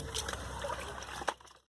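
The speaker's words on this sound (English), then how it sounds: "So you wash it until the water comes clean." Grains for Nigerian kunun zaki being washed in water to remove stones, a steady close sloshing and trickling with a brief splash near the end.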